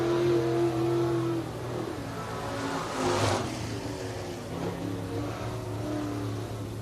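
Late model race car on a qualifying lap at Cherokee Speedway in Gaffney, South Carolina, its engine droning and rising in pitch as it passes, the tone steady and moderately loud with no voices.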